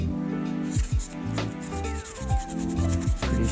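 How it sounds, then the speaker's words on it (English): Metal brush scrubbing leftover adhesive off an iPhone 12 frame during a screen repair; close, gritty rubbing strokes in quick bursts with brief pauses, no voices. "we're gonna use a metal brush then"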